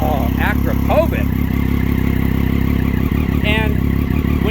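Steady, loud engine noise from a 2009 Triumph Daytona 675 with an Akrapovich exhaust fills the whole stretch, running close by while someone talks over it in short bursts.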